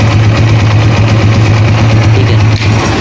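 A Honda CG125 motorcycle engine idles steadily up close with a loud, even low hum and constant rattling vibration from a loose magnet, a faint dip near the end.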